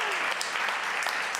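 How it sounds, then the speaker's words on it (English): A crowd at an experience marketing event gives a deserved round of applause, dense and even clapping throughout with a few sharper individual claps standing out. "that was a deserved round of applause"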